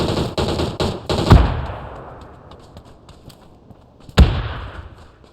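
Gunfire in the mobile battle royale game PUBG New State: a rapid burst of automatic shots at the start, then a lone loud crack near the end. The shots ring out sharp and close over quiet game ambience.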